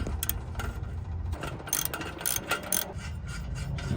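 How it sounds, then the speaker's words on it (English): A ratchet wrench undoing a 14 mm bolt while a car's Y-pipe is removed: quick bursts of close metallic ratchet clicks in short runs, with brief pauses between strokes. "take a 14 and undo this bolt"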